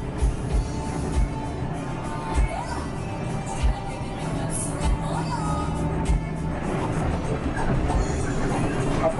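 Argo Wilis passenger train at Gubeng station in Surabaya, a steady loud rumble of rolling carriages with periodic rail clacks, heard near and continuous beneath crowd noise and people talking on the platform.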